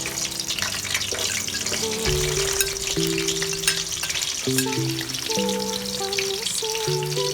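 Steady sizzling of onion frying in hot oil in a hot pot, continuous and close, with background music tones running throughout and no talking.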